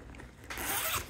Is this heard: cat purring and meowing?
no